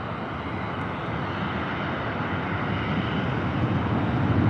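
Steady broadband roar of an airplane near San Diego airport, a constant engine rumble that grows slightly louder toward the end, with no voices.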